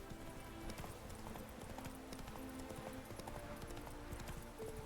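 Steady clip-clop of a horse galloping in The Witcher 3, with continuous rhythmic hoofbeats at a moderate, even level and an occasional faint whinny.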